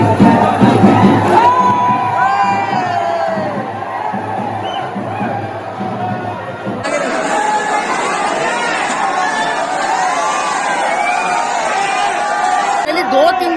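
A large, dense crowd fills Dongargarh temple during Navratri, a loud continuous wash of chatter, shouts and scattered cheers. The noise stays close and unbroken throughout, and it gets a little thinner partway through.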